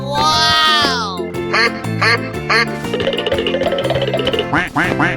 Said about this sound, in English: Quack, quack, quack, quack, quack, quack.